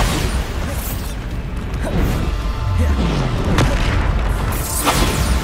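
Booming explosion from the Bombarda spell in Hogwarts Legacy, played on PS5 during Niamh Fitzgerald's trial, with repeated loud blasts and rumbling impacts over a dense battle din of game effects.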